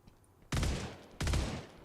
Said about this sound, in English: Okay, it shoots like a barrage.